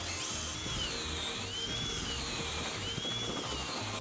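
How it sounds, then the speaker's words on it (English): A power drill whirs steadily with a wavering pitch, churning continuously as a paddle stirs a thick mixture of resin and gravel aggregate. "Mixing the resin with the aggregate I found easy with a drill and a paddle"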